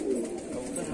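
Domestic pigeons coo in a low, continuous murmur at a Daraganj, Prayagraj pigeon-keeping loft. A soft, steady flock sound fills the whole short moment with no clear pauses.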